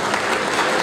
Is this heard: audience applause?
yes